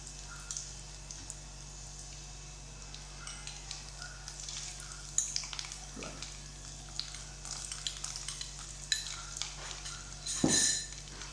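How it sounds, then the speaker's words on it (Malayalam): Fenugreek seeds and coconut pieces frying in hot oil, a soft steady sizzle with scattered crackles and pops and a few utensil clinks toward the end, no talk. "അപ്പം നമ്മൾ ഓയിൽ ചൂടായിട്ട് നമുക്കിതിലേക്ക് നമ്മൾ ഉലുവ ഇടാം. ഇനി നമുക്ക് തേങ്ങാക്കൊത്ത്,"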